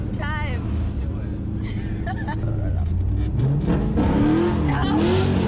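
A 2000 Chevrolet Camaro Z28/SS with a dual-caliper hydraulic e-brake drifts, its V8 revving loud and rising while tires squeal, with excited voices over the engine.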